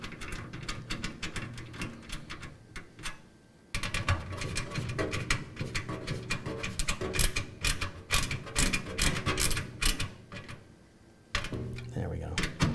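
Motherboard standoff tightened with a dedicated 5mm bit tool during a PC build, heard as close, rapid ratcheting clicks in bursts with short pauses.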